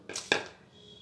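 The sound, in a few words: pounding chutney ingredients in stone mortar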